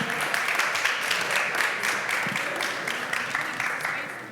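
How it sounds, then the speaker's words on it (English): Audience applause for a yoga teacher walking up to the stage at a mindfulness meditation event, a dense steady clapping that stays even and then slowly fades. "let's give him a round of applause, everyone"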